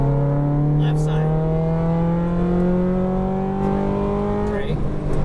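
A Ferrari F430 powers out of a corner under throttle, its loud, close engine drone climbing steadily in pitch throughout with a brief shift near the end.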